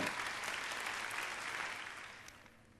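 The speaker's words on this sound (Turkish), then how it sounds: "Arkadaşlarımız da beğendiler ve alkışladılar." Studio audience applauding during a televised cooking show as a coconut-topped fruit cream cake is prepared, a steady dense clapping that stays loud and slowly fades toward the end.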